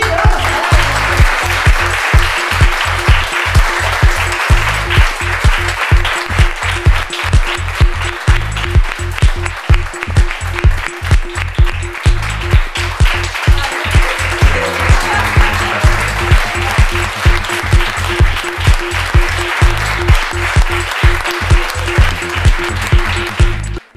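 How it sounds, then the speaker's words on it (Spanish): An audience applauds an artist at the opening of a painting exhibition: sustained, dense clapping that stays loud and even for the whole stretch, with no voices over it. "un gran aplauso"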